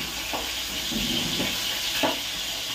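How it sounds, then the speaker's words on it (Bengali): Pangas fish frying in hot oil, a continuous close hiss and sizzle broken by a few sharp splattering pops, with no voices. "আর এত ফুটছে পুরো টাইলসগুলোই তেল ছিটকে ছিটকে লাগছে"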